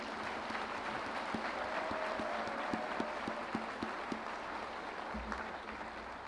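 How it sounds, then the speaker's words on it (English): Commencement crowd at a high school graduation ceremony applauding, a steady dense wash of clapping held throughout at moderate distance, with a few louder individual claps standing out and no speech over it. "Okay, let's do one big round of applause now."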